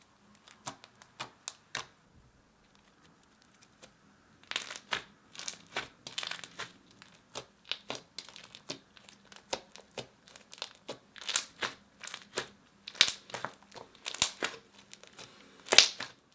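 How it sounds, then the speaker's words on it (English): Foam bead slime squished and crackled with popping air bubbles, dense crinkly clicks and snaps starting sparse, then a steady run of close, sharp pops and crunches with no talking. "It also had amazing bubble pops, and I love the texture of the different size foam beads."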